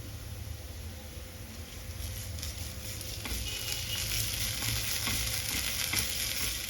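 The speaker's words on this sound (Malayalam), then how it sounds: "വന്നിട്ട് ഇനി അതിലേക്ക് 1 ടീസ്പൂൺ ജിഞ്ചർ ഗാർലിക് പേസ്റ്റ് ഇട്ട് കൊടുക്കാം." Ginger garlic paste frying in a pan for a side dish, a constant dense sizzle that grows slightly louder, with stirring scrapes close by and no voices.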